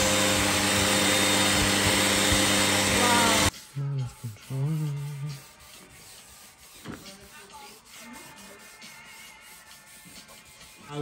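Sandpaper rubbing over a wooden window frame, a steady loud scraping for a few seconds that stops abruptly, followed by quieter handling noises and light knocks.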